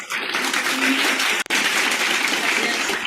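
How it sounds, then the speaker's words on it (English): At a Monday club meeting, the audience gives a big round of applause in a dense, steady wash of clapping with a brief break partway through. "Let us give a big round of applause to all of us"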